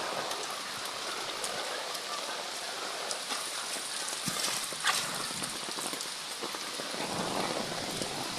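Steady rain falls on surrounding surfaces in a continuous, fairly close hiss, with scattered individual drop hits standing out.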